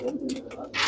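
Soft, low cooing of Indian Rampuri Chandakhani pigeons, a brief burble nearby, with a burst of hiss or rustle at the end.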